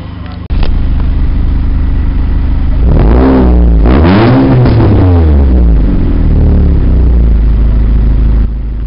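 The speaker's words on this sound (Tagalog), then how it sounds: "Grabe, solid nung pipe niya." A Honda City car engine with a solid-sounding exhaust pipe, heard close and loud as a steady idle rumble that revs up and back down twice in the middle before settling again, with no talking.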